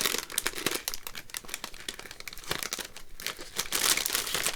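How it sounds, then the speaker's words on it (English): A paper DL envelope is handled close to the microphone, giving continuous crinkling and rustling with sharp crackles throughout and no speech. "I'm going to take one of these envelopes that I've got."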